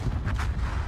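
Naval warship video game combat, an armor-piercing shell and torpedo striking an enemy destroyer, heard as a low rumbling boom with a brief crackling burst of impact noise, fairly quiet and short.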